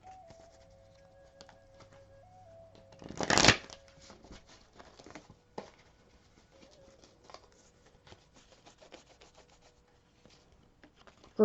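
An oracle card deck is shuffled in a quiet room, a brief papery riffle that rises quickly and stops, followed by faint scattered rustles and taps as the cards are handled.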